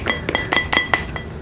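Chassis Premium Powder Ice is tipped into a glass of water, giving a quick series of about six bright glassy clinks and taps, close and clear, with no talking.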